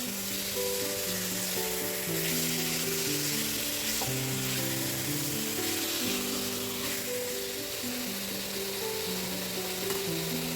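Chicken tinola with sotanghon, seasoned with salt and seasoning granules, sizzles and bubbles in a pot while being stirred, a steady close hiss running under continuous melodic background music.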